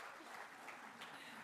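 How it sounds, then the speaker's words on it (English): An audience at a talk on the British Raj gives a round of applause, dense continuous clapping heard at moderate distance and sustained throughout without pause. "big round of applause"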